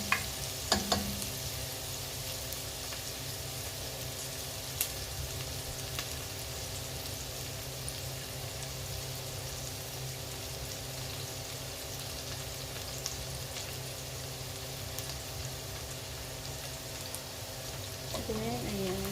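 Garlic fries in reused cooking oil, a steady close sizzle that runs continuously with a couple of faint clicks near the start.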